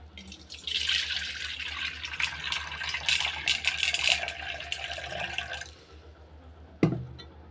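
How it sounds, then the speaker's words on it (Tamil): Water pours steadily into a bowl of white sorghum grain for several seconds, splashing and hissing close by, then stops, followed by a single clunk. "ஜோளம் வந்து ஓரளவுக்கு தண்ணி ஊற்றியாச்சு"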